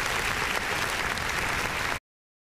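Spectators applauding at a local cricket tournament semi-final, steady dense clapping from a crowd heard at moderate distance, continuous and even before cutting off suddenly.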